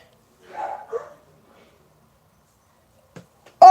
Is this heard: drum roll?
no